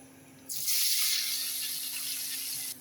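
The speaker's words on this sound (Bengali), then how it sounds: "কড়াই গরম হয়ে গেছে, তেলটা দিয়ে আলুটা ভেজে নেব।" Potatoes with a little turmeric drop into hot oil in a kadai, setting off a sudden loud, close sizzle that holds steady for about two seconds before cutting off, with no talking.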